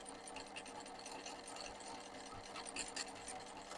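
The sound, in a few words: embroidery sewing machine stitching roof colour thread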